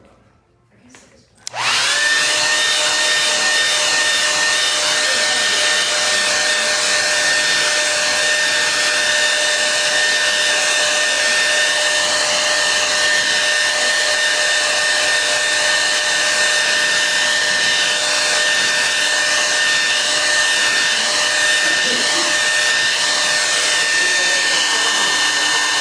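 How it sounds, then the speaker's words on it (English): A hair dryer blows steadily on a watercolor painting. It switches on after a moment of quiet and then runs loud and constant at close range, a whining, airy drone with no break. "if you allow this to dry on its own rather than using a hair dryer"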